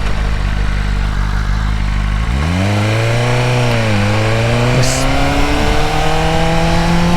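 A BMW M1000RR motorcycle engine idles with a deep, loud rumble, then revs and accelerates hard, its rising roar sweeping up in pitch and staying loud and close to the end, with no talking.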